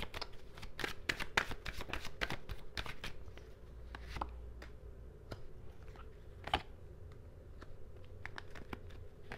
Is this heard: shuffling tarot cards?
yes